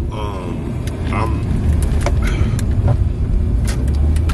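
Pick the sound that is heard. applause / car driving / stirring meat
car driving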